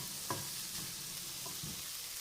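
Ingredients for chicken soup frying in a pot, a quiet even sizzle with a few soft stirring knocks.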